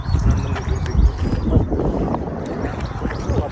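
Wind gusting across the Ramita Dada hilltop, a loud low rumble of buffeting against the microphone with uneven surges throughout.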